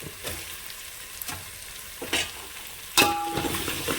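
Curry leaves and green chillies fry in hot oil, giving a continuous close crackling sizzle broken by occasional louder pops and spatters.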